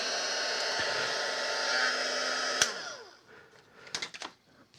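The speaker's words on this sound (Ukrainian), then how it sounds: "Для того, щоб зняти цю гуму, можна її обережно нагріти з допомогою фена" Hair dryer blowing steadily to warm a rubber pad on a Creative Sound Blaster E5, a loud continuous whoosh that switches off partway, followed by a few faint handling clicks.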